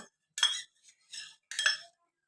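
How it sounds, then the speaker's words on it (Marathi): A spoon stirs a homemade shrikhand mixture in a bowl, giving three short clinking, scraping bursts with brief pauses between them, close and fairly quiet, with no talking. "आणि मिक्स करून चांगलं ढवून घ्यायचं"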